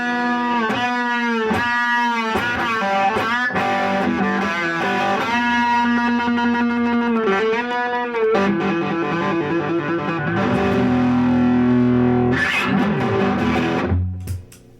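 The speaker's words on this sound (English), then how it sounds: "I've got kind of a thrashy, distorted sound, and it's just tasty." A loud electric guitar played through a Fender Deluxe Reverb tube amp, crunchy and distorted, strumming thrashy chords and riffs steadily for about fourteen seconds before cutting off abruptly.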